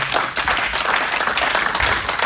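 A church congregation applauds together in a dense, even patter of many hands clapping, sustained and fairly close for a couple of seconds.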